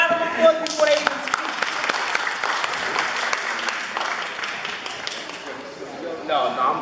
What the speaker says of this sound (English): I want y'all to just give them a round of applause before they even speak